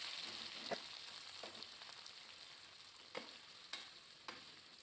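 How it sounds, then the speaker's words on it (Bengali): Onions frying in oil with dry chillies and cumin while cooking chicken kosha: a faint, steady sizzle with a few soft stirring scrapes spaced through it, and no talking. "এবার আমি পেঁয়াজটা দিয়ে দেবো।"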